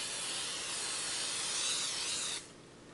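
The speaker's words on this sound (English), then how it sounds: "I'm gonna spray my base so it doesn't stick." A steady hissing spray of cooking spray onto a baking pan, close and continuous for over two seconds before cutting off abruptly.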